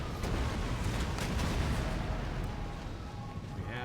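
Artillery cannon fire in Empire Total War, heard as dense, continuous booming and rumbling battle noise with scattered sharp reports, loud and sustained throughout, faint voice traces underneath.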